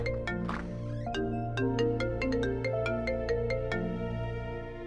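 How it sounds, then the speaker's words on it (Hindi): A phone rings with a bright melodic electronic ringtone, a repeating tune of clear tones over a low steady hum, heard alone without talk. "फोन है, शायद फवाद का होगा।"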